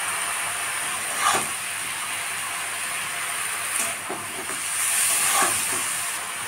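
Cumin paste, dried chilli and garlic paste frying in a pan for a cabbage dish, giving a steady soft hiss and sizzle with a few faint clinks, low and continuous throughout.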